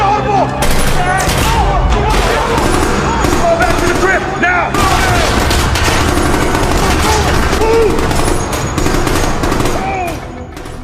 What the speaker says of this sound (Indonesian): terjadi aksi tembak-tembakan